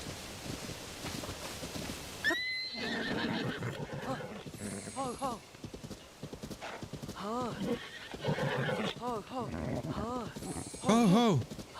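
A horse in the Switch 2 Edition of Zelda: Tears of the Kingdom neighs and whinnies repeatedly as hooves clip-clop, with a person talking over the sounds throughout.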